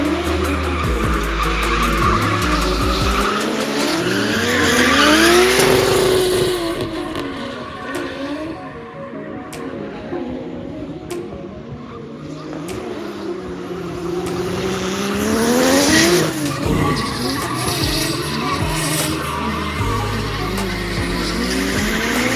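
Toyota Supra and BMW E36 drifting in practice, tires skidding and squealing in long sweeping arcs while engines rise and fall, loud and close, with two swells of screeching and no talk.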